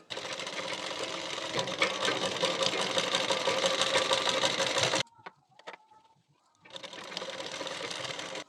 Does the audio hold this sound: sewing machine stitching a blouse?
yes